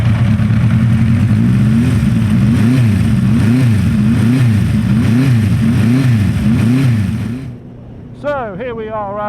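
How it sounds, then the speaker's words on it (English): A 1975 Honda 400 Four motorcycle engine runs close and loud, revving in regular rising-and-falling swells for about seven seconds before cutting out, followed by a brief voice. "let's hear this turbine smooth engine fire up."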